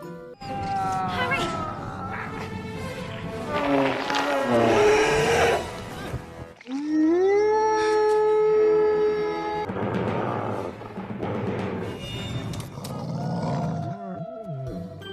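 Lions or big cats roar repeatedly in a Harry Potter film scene, long loud rumbling growls rising and falling over about fifteen seconds, with brief pauses between bursts.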